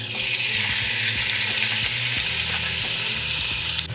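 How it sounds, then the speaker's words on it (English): Bison meat browning in a hot pan for a stew gives off a steady, loud hiss of frying with occasional scraping as it's moved around, close and uninterrupted. "brown the bison for like 5 minutes"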